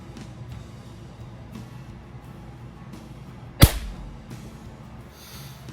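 An old repaired Crosman model 1400 pump air rifle fires a single sharp crack partway through, loud and close against a quiet background hum, then quiet again.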